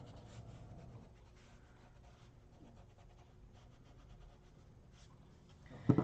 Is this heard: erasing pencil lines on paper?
yes